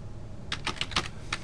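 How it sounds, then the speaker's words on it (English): A computer keyboard clatters with a quick burst of about six keystrokes as a folder name is typed into Windows Explorer, crisp and close after a brief quiet moment, with no speech. "I typed something"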